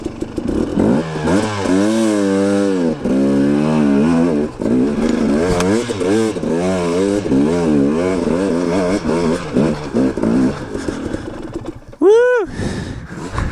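A dirt bike engine revs hard and loud while climbing Flag Mountain in Colorado, a rising and falling throttle that whines up and down through many gear changes, ending with a sharp high rev.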